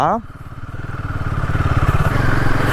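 Royal Enfield Himalayan 450 riding over heavy off-road trails, its single-cylinder engine thumping in a steady, close, rising pulse that grows louder over a couple of seconds, while a rider's voice briefly begins at the start.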